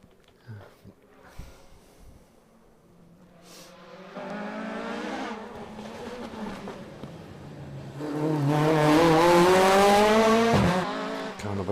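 A rally car, car number 50 driven by Tom Flaherty on a West Cork Rally stage, approaches from a distance, growing louder as the engine revs rise and fall through gear changes before roaring past nearby.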